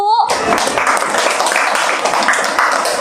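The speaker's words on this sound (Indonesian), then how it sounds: "Tepuk tangan untuk kelompok 1." A room full of people claps together in steady, lively applause that continues for several seconds.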